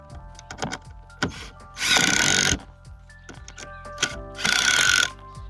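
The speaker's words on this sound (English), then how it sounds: "I'm using a socket on this that fits those hex wrenches." A power driver with a socket spins hex screws into a Costco Adirondack chair in two loud bursts of whirring, separated by clicks, taps and handling knocks on the wooden parts.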